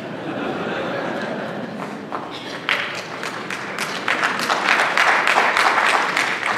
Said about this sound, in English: please retain your applause until the end of the program